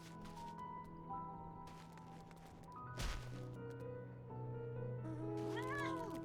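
A cat meows a few times toward the end in Final Fantasy XIV, clear and close, over soft sustained piano-like tones with a brief thump midway.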